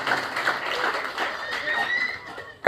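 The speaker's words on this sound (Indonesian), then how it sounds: "Tepuk tangan dulu yang terbaik buat Tuhan Yesus." A church congregation at a Christmas service applauds with steady, diffuse clapping, moderately loud, with soft tonal sound beneath it and a sharp thump right at the end.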